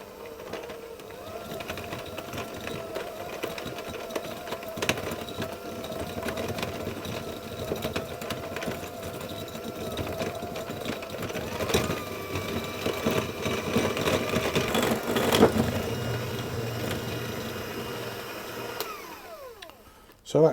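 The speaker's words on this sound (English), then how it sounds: "I'll simply whisk that with my hand mixer until it's all nice and creamed together" An electric hand mixer creams shortbread biscuit mixture. It gives a continuous, close motor whir with a rattling buzz that holds steady for about twenty seconds before stopping, and no one talks.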